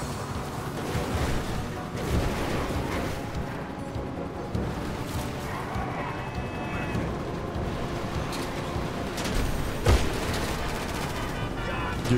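Continuous gunfire fills a chaotic GTA Online firefight, with rapid overlapping shots forming a dense, steady barrage throughout.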